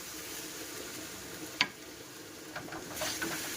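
Spice paste, with a splash of water, is stirred and fried in a pan, giving a low continuous sizzle with a sharp scrape of the spoon and a few softer stirring clinks, faint and close, without any voices.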